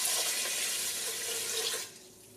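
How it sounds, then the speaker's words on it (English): Water pouring steadily from a measuring cup into the inner pot of a Crock Pot Express multi cooker holding rice, a close, continuous splashing rush that stops abruptly near the end. "Now I'm going to add 3 cups of water."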